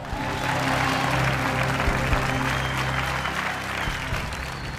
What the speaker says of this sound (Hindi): शाबाश, तालियां।